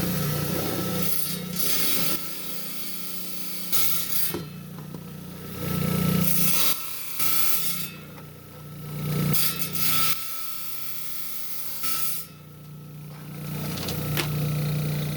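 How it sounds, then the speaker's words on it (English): A 10-inch trim saw cuts a shape from a slab of pinolite stone, giving a steady, loud grinding whine with the blade load rising and easing in several stretches as the stone is fed through. "we're down here on the 10-inch high-tech trim saw here. I'm going to cut this shape out"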